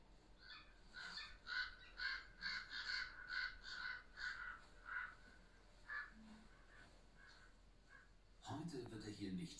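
Ravens caw in a rapid run of harsh, repeated calls through the first half, then sparser calls follow, all beneath steady talking that continues over the birds.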